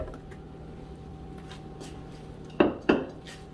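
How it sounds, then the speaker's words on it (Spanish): Roasted tomatoes, tomatillos, chiles and garlic go into a blender jar, landing as two quick hard clunks close together over a steady low kitchen hum. "Ahora los vamos a poner en la licuadora."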